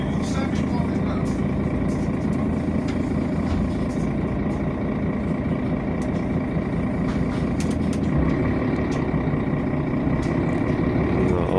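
A heavy bus engine rumbles loudly and steadily as it rolls past close by on a street in Uzhhorod, Ukraine, with people talking over the noise.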